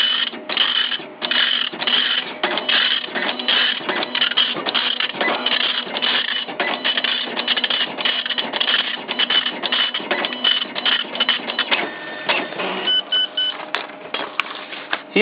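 An Epson 24-pin dot matrix printer printing a tattoo stencil on spirit transfer paper, with a loud, fast rhythmic buzzing rasp of the print head sweeping back and forth, then slowing and stopping near the end.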